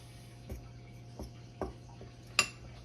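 Four separate clinks of a utensil against a mixing bowl as baking soda is worked into flour for Christmas cookie dough, spaced about a second apart and close by in an otherwise quiet kitchen.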